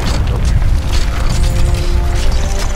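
A loud, sustained explosion from Army of Two, a deep rumbling blast with rolling debris and crackle that stays heavy throughout, close and alone without any talk.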